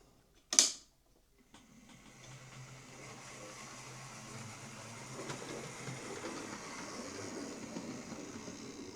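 An Oxford Rail Dean Goods model locomotive, repaired after a bad motor solder joint, gives a sharp click and then a faint, steady mechanical whir as it runs along a test track with the power turned up.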